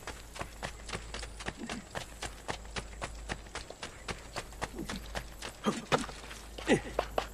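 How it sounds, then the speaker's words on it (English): Horse hooves clip-clop steadily in the video game Assassin's Creed 2, a clear, even run of hoofbeats at a brisk walking pace, growing a little louder and more irregular toward the end. "Is there a horse out here? Is that a horse? I think that's a horse."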